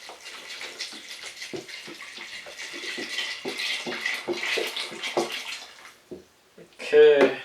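Tap water runs steadily into a half-gallon container for cooking field corn, a broad hissy splash with small clinks and knocks throughout, ending with a brief louder gush and faucet squeak.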